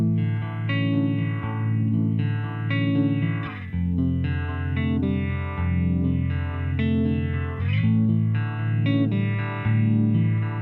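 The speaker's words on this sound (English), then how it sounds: "The triangle wave is similar to the sine wave, but spends more time around the center of the phasing range." An Empress Phaser guitar pedal set to triangle wave modulation, a sustained distorted guitar chord with a steady sweeping phase motion that pulses at the edges, loud and continuous with no talking.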